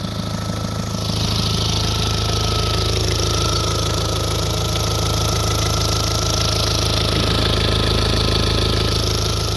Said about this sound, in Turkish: Araba şu anda çalışıyor.